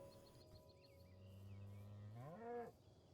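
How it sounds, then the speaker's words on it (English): A single cow moo from a video game, a long low call that rises in pitch near the end and stops abruptly, heard alone over a faint steady background tone. "See, we found a little cow to protect and save."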